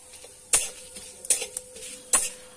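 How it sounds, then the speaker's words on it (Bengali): Bay leaf and cinnamon frying in a pan, stirred with a utensil that gives three sharp scraping knocks against the metal over a faint, steady sizzle, close by and with no talk. "একটু ভালো করে নেড়ে চেড়ে দেবো।"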